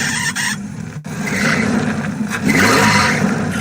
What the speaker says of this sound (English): So your car won't start, or when it does, it sounds like it's about ready for liftoff